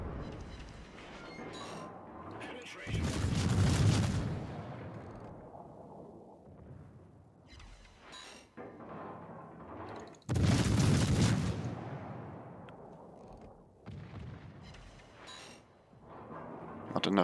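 Two heavy naval cannon broadside salvos from a destroyer in a naval video game, each a loud booming blast with a long rumbling decay, spaced several seconds apart over steady background engine noise.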